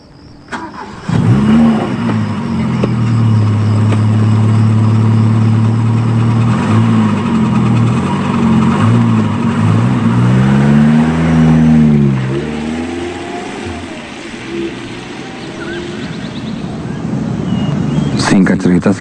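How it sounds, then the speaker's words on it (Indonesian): A pick-up truck drives along steadily, its engine humming at a constant mid pitch with shifts in revs partway through, while a voice talks over the engine noise. "aku dan Joni pergi mengendarai mobil pick-up"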